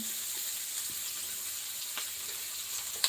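Chopped onion sizzles and fries in hot oil for a dry chickpea-greens curry: a continuous close crackling hiss with a faint clink near the end, and no talking.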